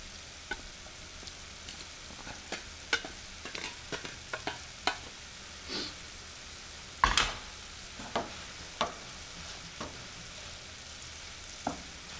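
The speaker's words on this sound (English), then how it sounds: "And now we're going to add the string beans. Turn the whole thing down. We're just first going to mix it up a little bit." String beans fry with tempeh in a pan, a steady soft sizzle broken by scattered clicks and scrapes of stirring, with one louder clatter in the middle and no talking.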